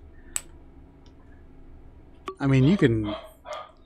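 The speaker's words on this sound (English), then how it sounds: "And the dogs are barking." Dogs bark loudly in a short burst of several overlapping barks, starting after a quiet stretch, with someone briefly speaking beforehand.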